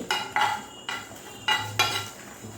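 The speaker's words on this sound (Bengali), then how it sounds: "এবারে গ্যাসের ফ্লেমটা একদম লোতে রেখে এই মশলাটা একটু ভেজে নিতে হবে" Whole coriander seeds and cumin with chillies dry-roasting in a pan over a low gas flame, heard as several separate scraping clinks of a spoon against the metal, spaced roughly a half-second apart and fairly close.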